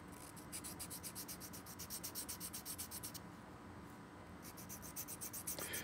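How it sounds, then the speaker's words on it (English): Sandpaper rubbing inside a glass crystal clarinet mouthpiece during refacing, a quiet rapid back-and-forth rasp in two bursts separated by a short pause. "you can get inside and do some sanding"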